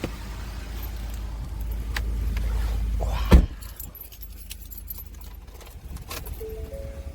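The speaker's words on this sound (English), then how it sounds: "let's go ahead and get in this truck and move it in the garage out of the sun" A Ford F-150 pickup rolls into a garage, its engine and tyres giving a steady low rumble. A sharp clunk follows, like a door shutting, then the engine drone drops away to quieter rustling and small clicks.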